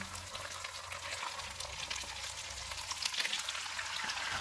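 Chicken fries in a hot pan with ginger-garlic paste over medium heat, a close, continuous sizzling hiss with crackles and small pops throughout.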